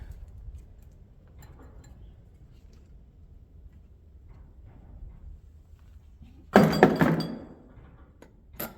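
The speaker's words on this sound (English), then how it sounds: "Doors banging around on the building there." Doors banging in a building: a loud bang or clatter rings out once after a stretch of quiet background, followed later by a short, sharper knock.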